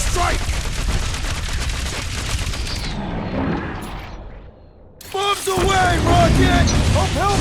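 Bombs drop and burst in the Guardians of the Galaxy video game as loud, rapid blasts under game music and voices, followed by a brief lull and then fresh explosive impacts.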